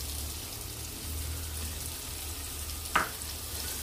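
Onions frying in hot oil in a pan give a steady, quiet sizzle that runs the whole time, with one brief louder crackle near the end and no talking.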